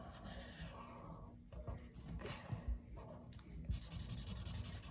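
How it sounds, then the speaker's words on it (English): Marker scratching out orange and yellow bubble letters, a soft continuous scribbling and rubbing with brief pauses and a few louder strokes, close by. "So I'm just gonna write in bubble letters"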